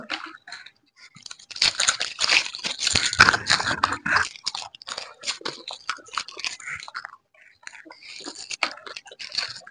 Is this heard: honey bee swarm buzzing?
no